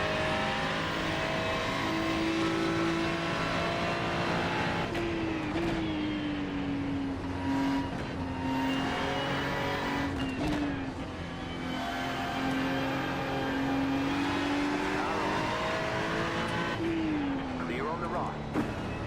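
Porsche Cup race cars lap in a four-hour endurance race at the Nürburgring, engines droning loud and close with rising and falling revs, gear changes and other cars passing, a driver's voice heard over the noise.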